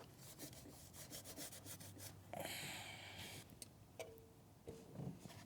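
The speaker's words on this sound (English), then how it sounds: "We're just gonna use a razor blade, scrape up this guy pretty quick." A razor blade scrapes old gasket material off a Cummins 6.7 thermostat housing in a run of short, close, gritty strokes that fade into a few light taps and clicks.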